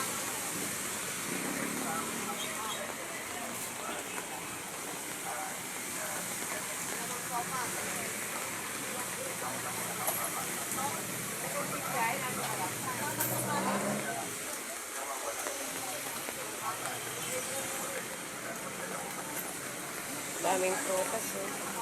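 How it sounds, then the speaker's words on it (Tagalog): Heavy typhoon rain near a muddy market, a constant dense hiss of rainfall on surfaces that runs steadily throughout, with occasional louder bursts and a voice speaking at times over the downpour. "May ulan, may bagyo."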